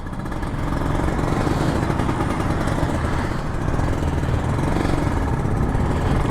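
A Kawasaki Ninja RR 150 two-stroke motorcycle engine, unused for three weeks, runs loud and close, a continuous buzzing drone with a rough, rattling texture and no pauses.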